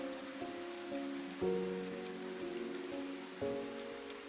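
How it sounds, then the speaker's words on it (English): Steady rain falls on a surface in a quiet village lane, a soft continuous patter behind gentle, slowly struck musical notes. "The village was quiet in the rain."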